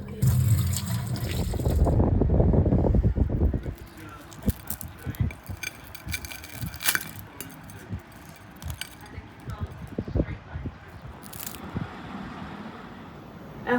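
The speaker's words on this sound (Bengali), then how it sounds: "আমটা একটু ধুয়ে" A mango is washed by hand under a running tap: water gushes loudly for a few seconds, then stops, followed by scattered drips, clinks and handling sounds nearby.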